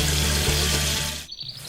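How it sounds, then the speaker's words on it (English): Water sprays from a farm irrigation system fed from a pond, watering rows of young Christmas trees; a steady, loud hiss and rush runs for about a second before cutting away abruptly. "Water starts spraying, watering the entire farm."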